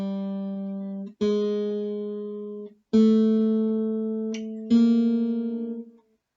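Beginner guitar exercise on the third string: four clear plucked notes in a steady count, each ringing with a sharp attack and slow decay, close and alone.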